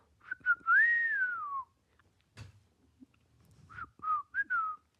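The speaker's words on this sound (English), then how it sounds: "wouldn't it be great if like birders had a secret whistle" A person whistles a short tune of rising and falling notes, pauses with a few soft knocks and a sharp tap, then whistles a brief three-note phrase.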